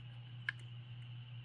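A Mini-z body retaining clip snaps into place with a single sharp, small plastic click, close and brief, over a faint steady electrical hum.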